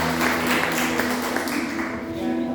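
Church congregation applauding during a Sunday missions service: dense, sustained clapping from many hands, loud and close, with a steady tone under it before fading slightly at the end.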